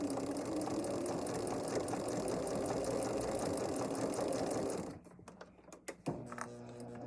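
A sewing machine stitches a quarter-inch seam with a steady, close mechanical whir for about five seconds, then stops, leaving a few soft clicks and handling noises.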